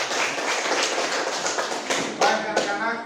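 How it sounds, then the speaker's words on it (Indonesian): A classroom of students applauds with brisk, continuous clapping, close and fairly loud. A few sharper claps stand out near the end. "Tepuk tangan buat."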